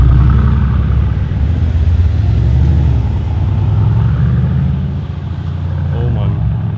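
Mercedes-AMG C63 S engine rumbling loudly and revving under acceleration, a deep continuous roar throughout with a brief dip near the end, heard from close up with voices talking over it.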